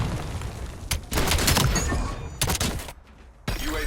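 Rapid gunfire bursts from the Call of Duty Black Ops 7 video game, with dense overlapping shots and thuds loud and close, briefly dropping away near the end before resuming.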